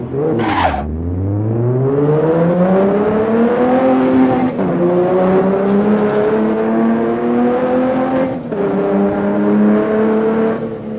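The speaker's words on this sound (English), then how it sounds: "Is this what you expected the car to sound like?" A modified car engine revs hard, its pitch climbing in long sweeps with brief dips between, loud and close throughout with no talking.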